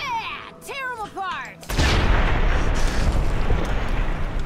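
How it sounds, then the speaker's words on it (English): A loud explosion in the video game Fallout: New Vegas bursts in after a few rising tonal effects and rumbles on as a dense, sustained blast that fills the rest of the moment. "Well, that was a good explosion."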